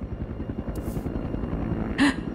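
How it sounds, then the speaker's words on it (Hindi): A steady rhythmic thumping of helicopter rotor blades, fairly close and continuous, with a brief sharp noise near the end. "एक हेलीकॉप्टर, हेलीकॉप्टर।"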